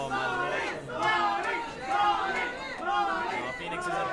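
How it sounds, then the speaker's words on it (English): A packed crowd at a Super Smash Bros. tournament cheers and chants loudly in rising, rhythmic waves of massed voices that swell and fall about once a second. "Crowd is absolutely insane right now"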